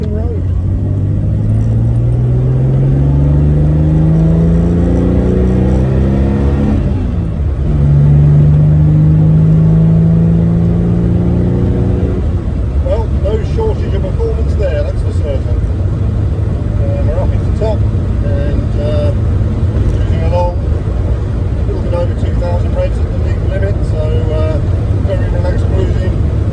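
A 1959 Jaguar XK150 fixed head coupé with a modern 5-speed gearbox drives on the open road, its engine droning loudly through rising gear pulls and shifts, with cabin road noise and talk over it.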